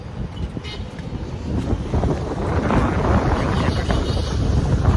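Wind buffets an outdoor microphone in a steady, rumbling roar that swells louder toward the end, with no voices.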